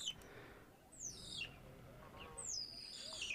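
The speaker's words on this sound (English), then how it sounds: "That continuation is a bird." A wild bird in open natural country gives two clear, high descending whistled calls about a second and a half apart, heard over a steady outdoor ambience with faint other birds.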